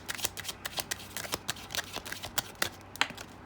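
Tarot cards being shuffled by hand give off a quick, soft series of crisp riffling clicks and flutters, close and quiet, with no talk over them.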